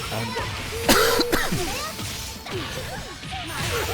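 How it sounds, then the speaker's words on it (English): Rough coughing and throat clearing from a person who is unwell, close and fairly loud, with a sharp burst near the start amid a busy background during a fighting-game tournament stream. "I have to apologise for coughing in advance in your ear during the stream of this"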